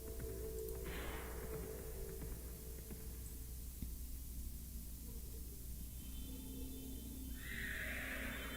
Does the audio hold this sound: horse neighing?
yes